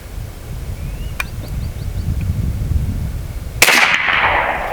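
A single sharp report from an AEA Challenger Pro .30 caliber air rifle firing outdoors at a 100-yard range, a sudden loud crack followed by a lingering hiss, after several seconds of wind and low rumble with a faint click.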